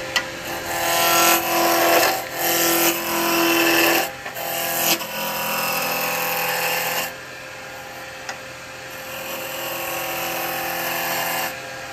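A woodturning lathe spins a goblet blank while a rocking gouge rounds it, producing a continuous close scraping, hissing cut with uneven surges and brief pauses as the tool moves along the wood.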